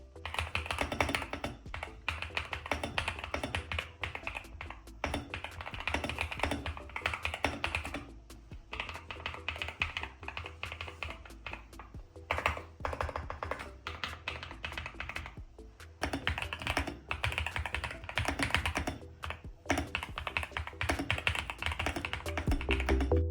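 Continuous typing on a NuPhy Halo75 V2 gasket-mounted mechanical keyboard with a softer bottom-out, producing close, muted clacks in quick bursts broken by brief pauses.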